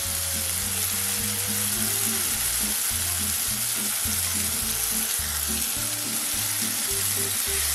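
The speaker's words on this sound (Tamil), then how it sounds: "கத்திரிக்காய் எண்ணெயில் நல்லா வதங்கிடுச்சு" Brinjal pieces fry in oil with tomato in a pan, giving a steady, close, continuous sizzle with occasional stirring. Low music plays underneath.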